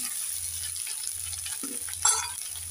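Soybean chunks and potatoes frying in a pan for a potato-soybean curry, a soft steady sizzle with a few scraping stirs of a spoon, close and moderate with no talking.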